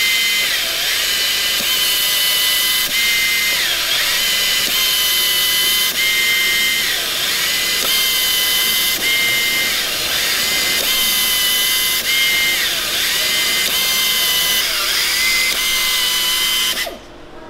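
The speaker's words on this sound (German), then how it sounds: "Und dann jagt man einfach so die Gewinde rein." A power drill runs threads into Vespa tuning parts with an oiled tap held in a quick-change chuck, a loud continuous motor whine that rises and dips in repeated cycles before stopping abruptly near the end.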